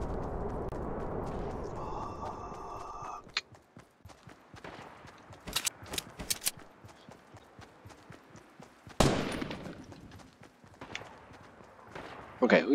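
Gunfire in the game Fortnite: a few sharp, loud bursts stand out between stretches of quieter game noise, with a player talking over them.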